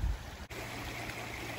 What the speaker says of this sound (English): It's a really pretty creek, it's flowing nicely.